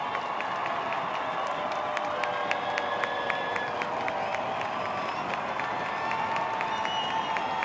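Home crowd at Toyota Field celebrating a soccer hat trick by the home side, a steady roar of cheering and applause from a distant stadium mass with scattered whistles and sharp shouts.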